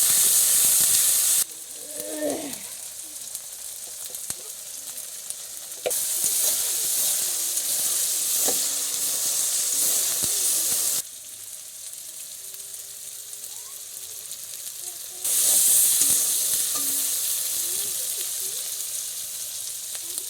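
Prawns frying and being cooked down in spices in a pan, a loud steady sizzle and hiss that swells and drops in several stretches as the pan is worked, with light stirring scrapes.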